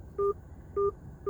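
Keypad tones from a telephone dialing a number come as short, evenly spaced beeps, three in a row about half a second apart, clear over a low background hiss.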